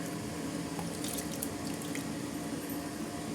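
Water poured into a pot of sambar with tamarind juice, mashed dal and drumsticks, a steady splashing rush of liquid heard close and alone, with a few faint drips and clinks.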